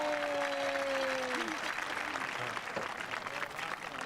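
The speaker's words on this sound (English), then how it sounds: "Let's give them a nice round of applause." Spectators at a West Holmes high school football game applaud the 2023 homecoming court, steady crowd clapping throughout, with a brief tone and scattered voices in the background.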